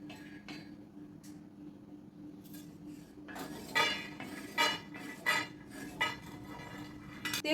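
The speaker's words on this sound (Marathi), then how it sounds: "आपण आता एका डिशमध्ये काढून घेऊया" Roasted peanuts are scraped from a pan into a dish, giving a series of close metallic clinks and scrapes of utensil on cookware, quiet at first and then sharper in separate bursts.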